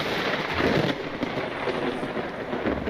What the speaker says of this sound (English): I freaking got hit by lightning through my windows.